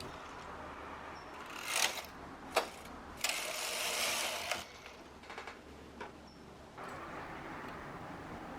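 A knitting machine carriage is pushed across the needle bed to knit a single row for a pair of shorts, giving a series of close mechanical swishes and clatters in short bursts with quieter gaps between them.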